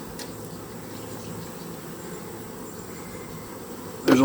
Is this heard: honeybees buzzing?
yes